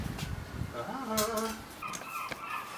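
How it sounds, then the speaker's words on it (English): Bird calls, harsh and wavering, rise and fall over steady background noise, moderately distant, with a second higher call joining midway. "Seagulls!"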